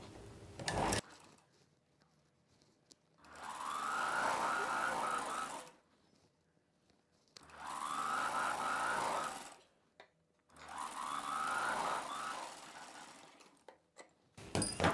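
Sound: sewing machine stitching a folded cloth strip

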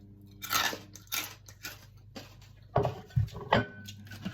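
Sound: chewing crunchy fried pork rind

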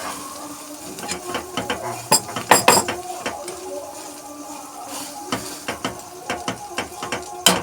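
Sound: egg omelette frying in a pan

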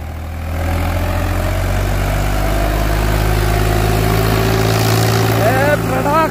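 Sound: Indo Farm 3048 tractor engine roaring

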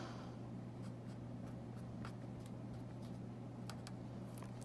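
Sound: writing by hand

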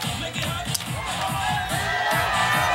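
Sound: golf long drive crowd buzzing

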